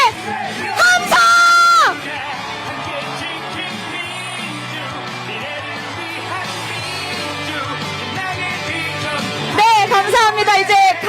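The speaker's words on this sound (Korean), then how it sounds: "함성!" Loud crowd at a Korean presidential campaign rally in Wonju, Gangwon, with cheering, yelling and whooping that swells at the start and end, a dense roar of many voices sustained throughout.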